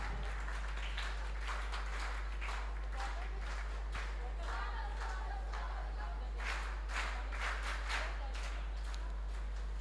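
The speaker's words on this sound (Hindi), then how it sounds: "एक बार बच्चे स्वागत में ताली बजाएंगे" Children at a national unity camp clapping in welcome for an honored guest, a continuous rippling round of applause with brighter bursts near the end over a low steady hum.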